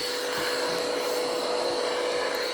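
A vacuum cleaner runs close and loud, a steady whirring roar with a constant high whine and no pauses.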